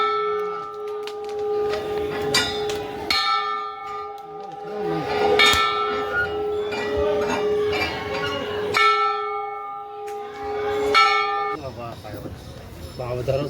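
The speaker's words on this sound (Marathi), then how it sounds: "घंटा वाजव का" A temple bell at a Maharashtra shrine struck repeatedly at an uneven pace, each ring clear and close with a long metallic decay, while voices talk in the background.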